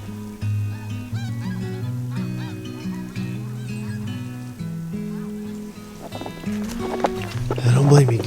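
Several geese honk in overlapping calls at close range, outdoors on a frozen off-grid homestead, with voices talking alongside throughout.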